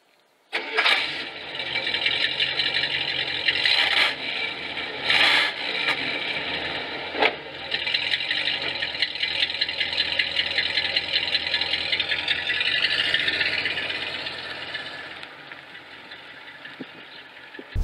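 A 1974 Cadillac Superior hearse has its engine cranked and started, then settles into a steady, fairly close idle that continues throughout with a few brief knocks.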